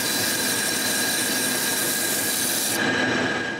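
Wooden nutcracker legs being turned on a lathe, a steady loud whirring hiss with a thin high squeal running throughout, the cutting noise shifting slightly near the end.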